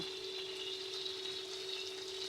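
Potatoes sautéing with spices in a pan, a steady soft hiss of frying throughout with no voices.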